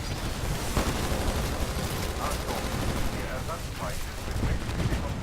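Titanfall gunfire on the Expedition swamp map: a continuous, loud wash of shots and combat noise with no breaks, with voices faintly under it.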